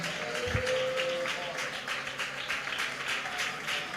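A congregation at a worship service claps along in a steady, quick rhythm, the claps sounding somewhat distant and blended over a continuous background of the hall.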